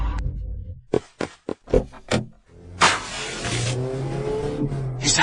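The car suspected in a hit-and-run revs its engine in a few sharp bursts, then accelerates into a loud, sustained roar. It sounds close, and no one speaks.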